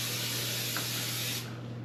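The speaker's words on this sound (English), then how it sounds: "We're going to spray them just a little bit." Cooking spray hisses onto cookie sheets in one continuous close spray lasting over a second, then cuts off.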